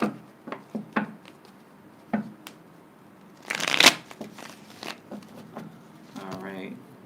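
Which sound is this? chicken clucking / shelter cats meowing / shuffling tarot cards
shuffling tarot cards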